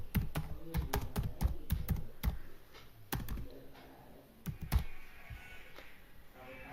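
A computer keyboard types a title in quick bursts of crisp, close clicks, broken by short pauses, with no one speaking.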